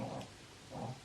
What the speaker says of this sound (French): il aboie parce qu'il est coincé